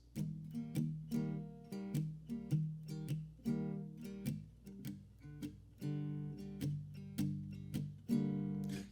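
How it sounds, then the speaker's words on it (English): Muffled, palm-muted acoustic guitar strumming in a steady rhythmic pattern, short damped chords repeating close and clear with no voices. "All I'm doing to get that sound is a little bit of palm muting."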